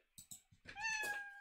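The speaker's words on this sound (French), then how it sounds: "joue le son miaou jusqu'au bout" The Scratch cat meow sound effect plays once, a short bright meow with a rising then steady tone, preceded by a few soft clicks, clean and close.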